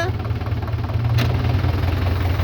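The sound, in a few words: tractor engine running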